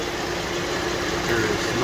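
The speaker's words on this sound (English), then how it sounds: "Alright, the fan came on." A 2014 Jeep Wrangler JK idles with a new thermostat fitted while its radiator cooling fan runs, producing a steady mid-pitched engine drone and an even whooshing of air, loud and close throughout.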